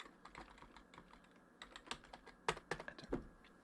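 Rapid keystrokes patter on a computer keyboard in an irregular burst, close and fairly quiet, with a few louder key presses near the end and no voices.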